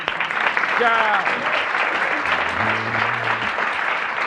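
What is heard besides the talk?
audience applause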